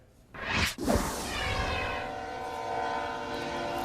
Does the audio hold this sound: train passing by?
yes